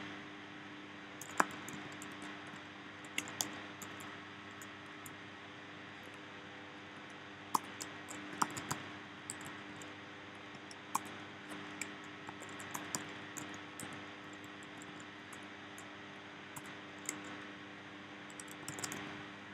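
Quiet, scattered keystrokes on a computer keyboard, irregular light clicks and taps spread over a long stretch against a soft steady hiss, some bursts of a few quick keys, others single isolated presses.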